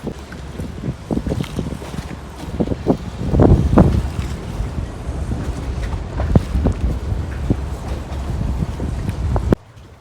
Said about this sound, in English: So we just had a huge gust of wind come through